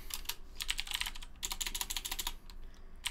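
A sudo apt update command typed on a computer keyboard, two close bursts of rapid key clicks separated by a short pause, crisp and near.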